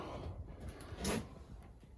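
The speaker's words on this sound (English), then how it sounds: "Pull the window open a bit." A window pulled open in a garage workshop: one brief scraping slide near the middle, fairly close, set against a low background rumble.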